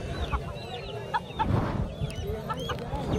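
Roosters and hens cluck and call at a busy livestock market, with repeated clucks and short crowing bursts rising over steady crowd noise, fairly close.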